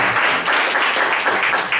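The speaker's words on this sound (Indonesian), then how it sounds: "Tepuk tangan dong buat SB 12." An audience at an event claps for SB 12, a dense, steady burst of applause with no voices over it.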